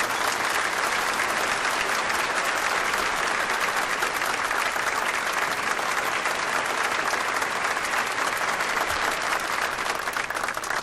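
Dense, steady audience applause welcomes a musician onto the stage of an evening show, loud and sustained without a break for about eleven seconds.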